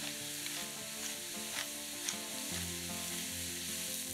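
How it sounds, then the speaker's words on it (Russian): Mushroom filling sizzles steadily in a frying pan while being stirred, a continuous close crackle with faint scraping under background music. "Все перемешиваем."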